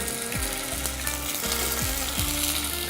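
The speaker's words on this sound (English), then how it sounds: "I'm gonna go ahead and start throwing these in here to fry." Food fries steadily in avocado oil, a loud, continuous close sizzle with crackling throughout and a low background hum.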